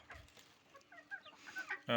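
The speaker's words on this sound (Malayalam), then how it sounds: "അടുത്ത ബാച്ച് പാരന്റ് സ്റ്റോക്കിലേക്ക് വളർത്തിക്കൊണ്ടിരിക്കുന്ന കോഴികളെ കാണിച്ചു തരാം" Native country chickens raised as parent stock on a home terrace verandah give a few soft, close clucks and chirps, ending in a brief louder burst of noise.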